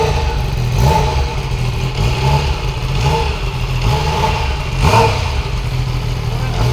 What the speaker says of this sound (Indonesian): Ini adalah mesin 3 silinder.